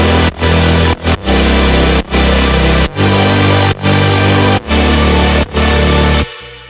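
Melodic dubstep build with layered mid-bass, deep sub bass and a voice-like vocal layer, loud and dense, pulsing in regular rhythmic chops with short gaps, ending abruptly.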